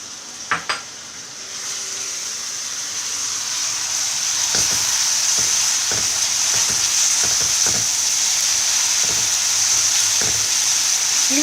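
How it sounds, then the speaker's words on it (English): Onion paste fries in a pan over a slow to medium flame, giving a steady, close sizzle throughout, with a few sharp clinks at the start and soft stirring scrapes at intervals; no talking. "We'll fry this also for about half a minute."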